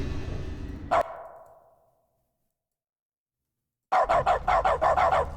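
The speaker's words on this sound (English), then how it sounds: "I can bark now." A dog barks repeatedly in The Stanley Parable video game: a burst of barking that cuts off into a fading echo, silence, then a rapid run of loud, evenly spaced barks.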